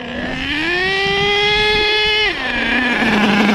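An HPI Savage XL K5.9 nitro RC truck engine running on rare race fuel held in first gear, a loud, steady high-pitched buzzing whine that climbs, holds, then dips slightly near the end.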